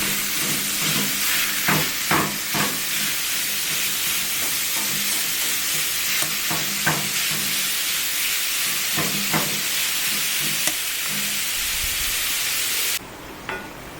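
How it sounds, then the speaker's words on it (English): Minced beef sautés in a pan in a steady, loud sizzle and frying hiss, with a few scraping stirs and clicks of a utensil and no talking. "add 50 grams of minced beef, or people call it ground beef. We want to saute this until it's brown all over."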